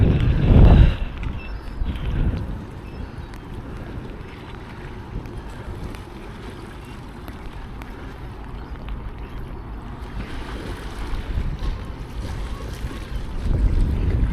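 Wind buffets the microphone in heavy gusts over a steady wash of water and waves on a Norwegian shore, loudest at the start and end, with no talking.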